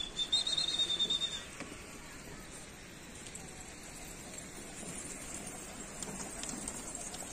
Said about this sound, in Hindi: ये कबूतर आ गए